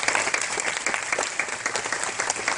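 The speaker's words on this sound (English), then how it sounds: "I think they deserve another round of applause" A film screening audience applauds the cast and crew of Trafficked (2015), a dense, steady wash of many hands clapping at close range with no pauses.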